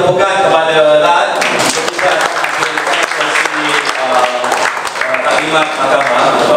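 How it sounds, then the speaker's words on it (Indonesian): Applause from the audience at a Malaysian youth gathering, a steady wash of clapping that stays loud throughout, with voices and crowd noise mixed in underneath. "Okey, satu lagi tepukan kepada Lat."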